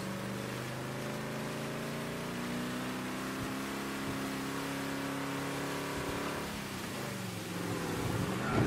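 A car engine in the video game Mafia remake revs steadily at a sustained high pitch, droning loud and close, then swells slightly louder toward the end.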